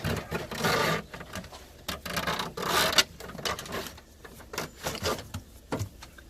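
A sewer hose slides out of a black storage tube along the side of a camper trailer, giving a series of close scraping, rubbing drags in uneven bursts with short pauses between pulls.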